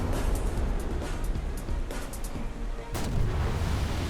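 Rocket barrage from a Pr. 1331M Parchim ship in War Thunder naval combat, a dense rumbling stream of launches and booms with sharper bursts around the middle and later, loud and continuous.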